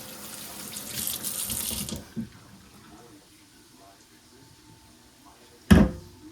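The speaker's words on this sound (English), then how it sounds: "I'm just going to go ahead and rinse this outside off real quick while I'm at it." Water from a kitchen tap runs steadily as a dish is rinsed, a broad hiss lasting about two seconds before stopping, followed by quiet and a short sharp clunk near the end.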